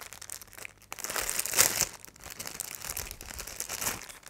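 Plastic and cardboard packaging from a parcel of lost packages being handled and torn open, with close, continuous crinkling, rustling and tearing that swells at moments.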